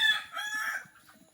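A rooster crows once among chickens, a fairly faint, drawn-out call that fades into quiet farmyard background.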